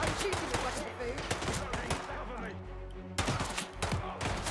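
Rapid bursts of gunfire from a weapon in the Silent Hill 2 video game, sharp repeated cracks over a droning game soundscape, with someone talking loosely at times.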